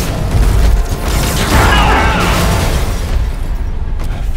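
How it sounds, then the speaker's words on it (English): An exploding bulldozer in the video game Marvel's Spider-Man, heard as a loud, rumbling blast with heavy low-end boom and crackling debris that rolls on for a few seconds before thinning out. "I found the exploding bulldozer."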